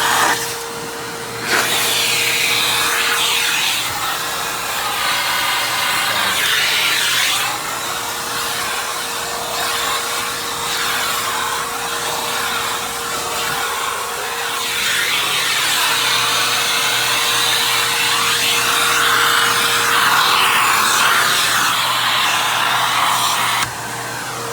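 Simplicity Symmetry Deluxe SYMDL.2 upright vacuum running with its upholstery tool, a steady loud motor whine with airy suction hiss that shifts in pitch as the nozzle moves, alone without talk.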